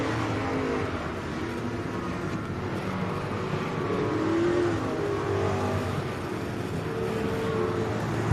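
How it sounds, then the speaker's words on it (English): Street stock race cars circle a dirt oval during hot lap qualifying at a Georgia speedway, their engines a continuous broad roar that swells and eases slightly as they pass, with no voices heard. "Crate Racing USA Street Stock Hot Lap qualifying underway."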